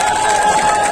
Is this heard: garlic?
no